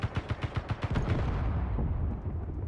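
An automated turret fires in the space-building game Space Engineers, a rapid burst of about ten loud, punchy shots followed by a deep rumbling roar that slowly fades.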